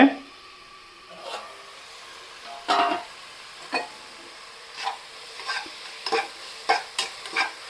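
Tomatoes softening in a pot on medium flame for mutton biryani, a quiet steady sizzle punctuated by a series of sharp ladle scrapes and clinks that come faster toward the end.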